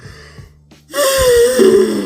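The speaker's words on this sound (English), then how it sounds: "Sorry, I was just yawning." A person gives a single drawn-out yawn close to the mic, starting with a sharp inhale and stretching into a long breathy, wheezy tone.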